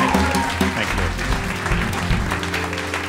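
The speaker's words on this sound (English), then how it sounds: "please clap very loudly for that" Audience applause, likely at a live comedy or pride show, a dense steady wash of clapping held across the whole stretch with low musical or crowd rumble underneath, loud and close throughout.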